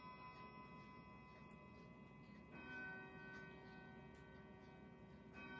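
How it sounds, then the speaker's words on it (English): A clock chimes noon in a quiet room, its faint ringing bell tones sounding in the background and renewing with fresh strikes partway through and again near the end. "You can hear the clock going in the background, chiming in the background."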